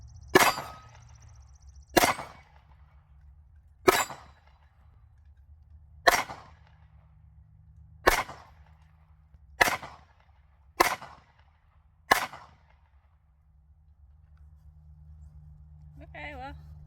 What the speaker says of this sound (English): Let me shoot another magazine.